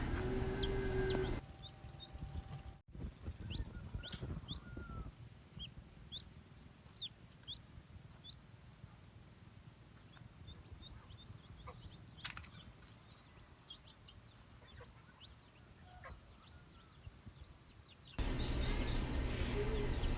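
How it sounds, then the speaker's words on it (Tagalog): Newly hatched native cobra cross chicks peep in a brooder, heard as many faint, high, scattered chirps over a steady low hum, with louder background noise at the start and end. "Yung brooder natin ay isa lang, kaya sama-sama na lahat yung mga napipisang sisiw dito."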